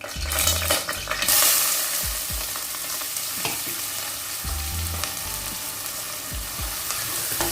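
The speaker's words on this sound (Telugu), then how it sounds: "అది వేగగానే ఆయిల్లో మనం ఆనియన్స్ వేసి ఫ్రై చేద్దామండి" Onions frying in oil in a pan for a chicken and baby potato kurma, a continuous crackling sizzle under repeated scraping strokes of a stirring spoon, close and fairly loud, with no talking.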